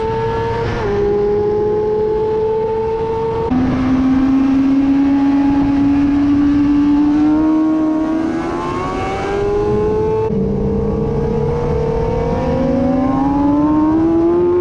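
A Yamaha R6 sport bike overtakes on the back straight of the Dubai Autodrome during a circuit session. The engine sounds close and loud, with a sustained howl that climbs in pitch through successive gear changes.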